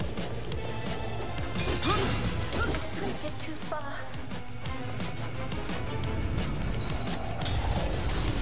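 Objects smashing and breaking in the video game Soulstice, with repeated crashing impacts over dense, continuous game audio that also carries some voice.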